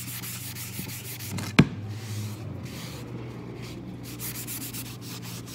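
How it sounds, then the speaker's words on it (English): A cloth rubs wax over a Dixie Belle crackle medium finish, a steady soft scrubbing hiss with a single sharp knock partway through, close and without talk. "And just keep wiping."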